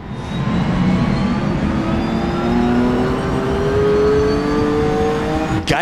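A Porsche 917K race car in the rFactor 2 simulator at Sebring, its engine roaring loud and steady, pitch climbing as it revs through the gears, with a brief cut at the very end.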